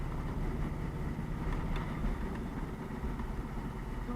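An Indian Scout motorcycle engine cruises steadily in sixth gear at about 60 km/h and 2000 RPM, producing a continuous low, throbbing drone mixed with wind rush at an even, sustained level.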